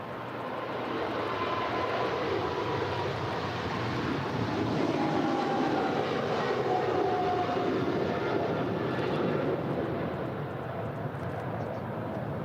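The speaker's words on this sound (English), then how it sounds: "That was a really heavy departure." A heavy Korean Air jet departs LAX with a broad, roaring engine rumble that swells and holds steady at a distance, a faint whine rising through it.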